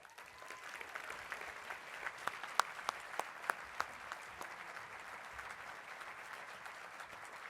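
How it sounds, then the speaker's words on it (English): Audience applause at a medical school honors and awards ceremony, a steady, fairly soft wash of many hands clapping with a few sharper individual claps standing out, heard from a distance and fading slightly toward the end. "one last round of applause for all these amazing students"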